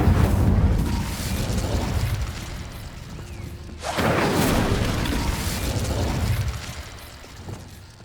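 The Incendio fire spell is cast in Hogwarts Legacy, bursting in two loud whooshing blasts with a deep roaring rumble, the second surge following about four seconds after the first.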